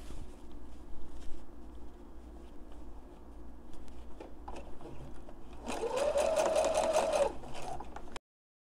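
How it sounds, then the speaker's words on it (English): A sewing machine runs steadily to top stitch the edge of a fabric face mask, its motor whirring in one continuous burst near the end after quieter handling of the fabric. "I'm going to top stitch this other end as well"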